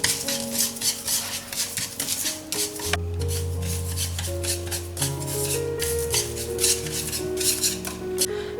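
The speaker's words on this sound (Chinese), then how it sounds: "现在我们来炒一个椒盐、花椒、盐" Sichuan peppercorns and white salt are stir-fried over low heat in a pan, giving a steady dry scraping and rasping as the spatula works the grains, over a low background hum.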